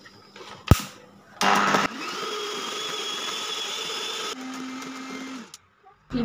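Handheld electric beater whipping cream for a butterscotch cake, a sharp knock and then a steady motor whine running several seconds, its pitch shifting midway before cutting off.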